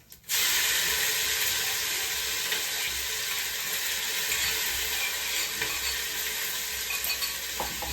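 Ginger and green chillies go into hot oil for a tempering, sending up a sudden loud sizzle that holds steady and close for several seconds with faint stirring clicks and no talk.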